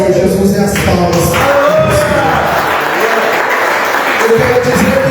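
Church congregation applauding during a testimony service, loud and continuous clapping mixed with voices and crowd noise throughout.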